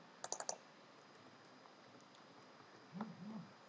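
A quick burst of four or five keystrokes clicks on a computer keyboard while someone types code, faint over a low room hiss, then a brief murmur of speech.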